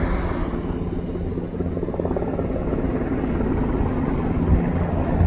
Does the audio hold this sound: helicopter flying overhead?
yes